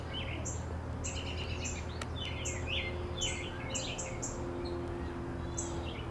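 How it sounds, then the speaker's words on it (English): Several birds chirp and tweet in short, repeated bursts over a steady low outdoor hum, moderately distant, with no talking. "You hear the birds chirping?"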